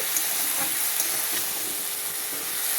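Salt, turmeric, ginger and cumin powder are stirred into food frying in a pan, giving a constant loud sizzle and hiss with faint scraping strokes of the spoon layered through it and no voices.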